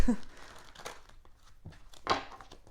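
Tarot cards being shuffled off camera during a reading, scattered soft rustles and a few crisp slaps and crinkles, fairly close and quiet, with no talking.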